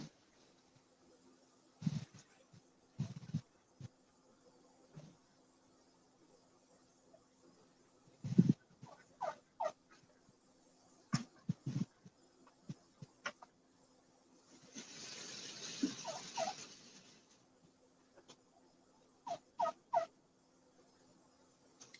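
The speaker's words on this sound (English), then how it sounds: "Can you hear my turkey? She's right outside my window chirping." A pet turkey calls outside a window, giving short, scattered chirps and gobbling bursts spaced across the span, with one longer hissy flurry, faint and slightly distant against a quiet background.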